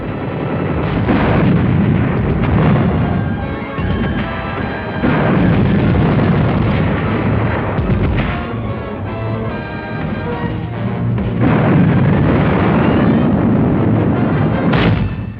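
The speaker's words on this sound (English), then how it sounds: "the effectiveness of our artillery and mortar fire in softening up the enemy positions" Artillery and mortar fire from World War II combat in Manila, Philippines. Heavy booms and blasts recur in dense bursts across the clip, loud and close, with no voices.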